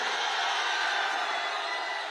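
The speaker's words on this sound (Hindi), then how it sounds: "अरवल के हमारे प्रत्याशी मनोज कुमार जी के लिए जोर से ताली बजाओ जरा" Crowd at a political rally in Arwal, Bihar, a dense, steady roar of cheering and clapping from many people, loud and sustained throughout.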